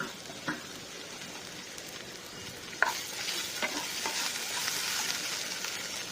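Capsicum sautéing in an open pan on a low flame, a steady crackling sizzle that grows a little louder, with a few spatula knocks and stirring sounds.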